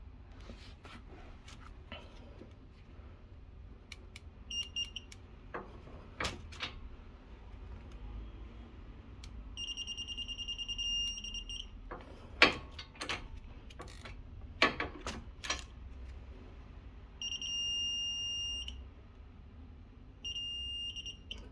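A torque wrench beeps on reaching its 200 Nm setting while tightening a front brake part on a 2016 VW Sharan 7N2: a steady high electronic tone sounds twice, each beep about a second long, over clicks and workshop noise.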